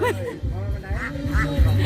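Ducks quack repeatedly at a ring-toss stall at a Thai temple festival, mixed with crowd chatter and people talking close by.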